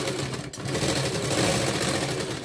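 A sewing machine runs steadily while stitching the fold of a 38-inch princess cut blouse, a continuous close motor whir with a brief dip near the start and no talking.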